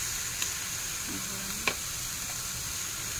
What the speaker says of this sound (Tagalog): Kahit fry lang natin guys.